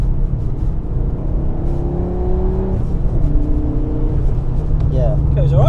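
A turbocharged Fiat Coupe pulls hard in third gear on boost, its engine note climbing in pitch as it accelerates close by, with voices talking over it.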